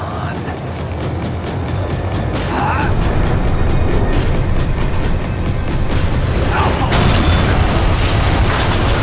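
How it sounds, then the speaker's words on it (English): A tram rumbles along in Max Payne 3, a loud, continuous low mechanical roar with rattling and clanks and occasional metallic squeals, steady throughout. "The tram was slowing down"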